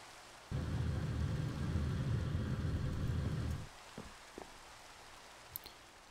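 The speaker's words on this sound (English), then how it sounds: "and it starts to rain" Rain falling in the Minecraft video game, a steady loud broadband hiss that starts abruptly, holds for about three seconds and then cuts off, leaving a few faint clicks behind.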